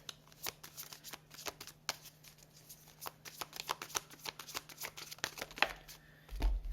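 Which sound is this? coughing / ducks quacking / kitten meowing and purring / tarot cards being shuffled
tarot cards being shuffled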